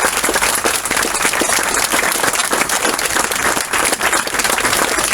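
An audience at a memorial inauguration ceremony applauds, a dense, sustained burst of many hands clapping at close range throughout.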